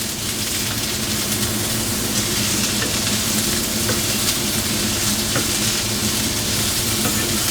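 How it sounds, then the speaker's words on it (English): Sprouts frying in a pan, a loud, dense, unbroken sizzle with faint stirring scrapes underneath, close up and steady throughout without any voices. "stir it."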